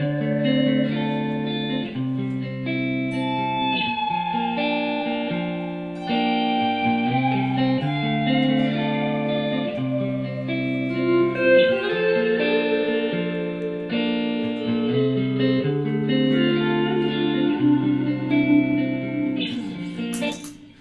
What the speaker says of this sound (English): a really common, easy way to use it is just in doing some swell notes over a simple chord progression